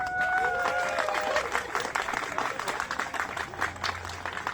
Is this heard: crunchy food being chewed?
no